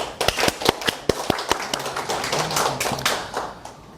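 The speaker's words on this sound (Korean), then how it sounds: "박수." A small group claps hands at a team training session, starting with a few sharp distinct claps that blur into a brief scattered round of applause before fading.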